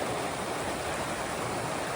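River in the Grand Canyon: a close, continuous rushing of flowing water, steady and fairly loud, with no voices.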